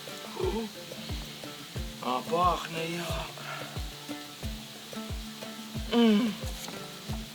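Food for kazan-kebab fries in a kazan with a steady, close sizzle and occasional stirring scrapes. Soft rhythmic background tones run underneath, and a voice speaks briefly.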